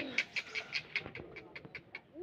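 Rajshahi giribaj pigeons at a loft, released after a day, give a string of rhythmic chirping, fluttering calls in steady pulses, close and fairly loud, with a faint low coo underneath.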